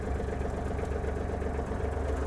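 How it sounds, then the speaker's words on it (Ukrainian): Kubota GL-32 Japanese mini tractor diesel engine idling, a steady low rumbling chug, close and even, no talking. "Нажимаємо щеплення, гріємо свічку та заводимо."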